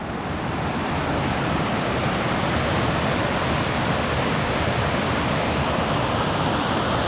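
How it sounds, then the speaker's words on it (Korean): A forest stream runs loud and steady beside Yongchu Bridge, near a cypress grove on Ilimsan in Boseong, South Korea, with the constant rushing roar of flowing water filling the whole stretch and no voices. "물소리가 아주 시원합니다"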